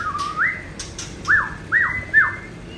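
White-rumped shama (murai batu) calls in a repeated series of rising, swooping whistles, about four clear phrases close by, with faint bird chatter in the background and no voices.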